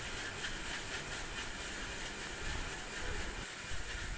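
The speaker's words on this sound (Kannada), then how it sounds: "ಮಿಕ್ಸಿ ನುಣ್ಣಗಾದ್ಮೇಲೆ ನಾನು ಮಿಕ್ಸಿಗೆ ರುಬ್ತಾಯಿದ್ದೀನಿ" A kitchen mixer grinder purees masala with a little water for green gram sambar. It makes a steady, fairly faint whirring roar without pause and with no talking.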